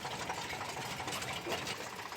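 A tractor engine runs steadily and close, a dense continuous mechanical drone with a fast rattling chug and no pause throughout.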